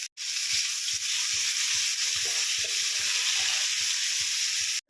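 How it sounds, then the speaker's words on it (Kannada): Green chilli and garlic paste fries in hot tempering oil with mustard seeds and cumin, a loud, steady, close sizzle punctuated by regular soft scraping stir strokes. "ಆಮೇಲೆ ನಾವು ಮಿಕ್ಸಿ ಮಾಡಿ ಇಟ್ಕೊಂಡಿದ್ವಲ್ರಿ ಹಸಿಮೆಣಸಿನ್ಕಾಯಿ, ಅಲ್ಲ ಬೆಳ್ಳುಳ್ಳಿ ಪೇಸ್ಟ್ ಹಾಕೊಳ್ಳೋಣ್ರಿ"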